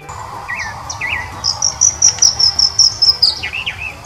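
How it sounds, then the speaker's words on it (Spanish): Birds sing from the treetops, with short chirps and a run of rising whistled notes repeated in a steady rhythm, set against a constant insect-like buzz of background trills. "Arriba de unos árboles cantaban unos pájaros"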